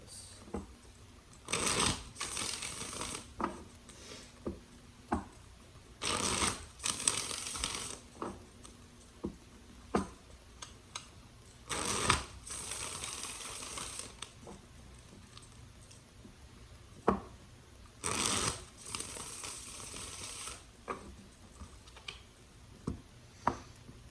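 Repeated bursts of tarot cards being riffled and shuffled, several distinct shuffles spaced a few seconds apart, with soft handling noises between them.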